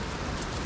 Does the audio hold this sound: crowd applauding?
no